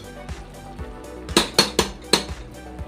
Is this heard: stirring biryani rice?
yes